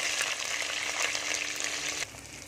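Onions and chillies fry in oil with cardamom, cinnamon and cloves for a vegetable biryani, giving a dense, steady sizzle close up that drops slightly in loudness toward the end.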